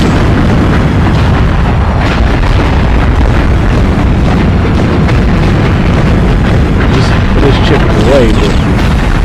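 Missile launcher explosions in the PS2 game Swashbucklers: loud, steady rumbling booms and bursts roll on without pause under someone talking.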